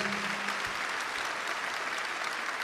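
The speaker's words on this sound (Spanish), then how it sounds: "Denle un aplauso al Señor Jesucristo" A church congregation claps at a religious service, broad steady applause filling the room for a short burst, at moderate level and not very close.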